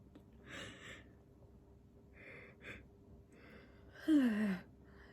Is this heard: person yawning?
yes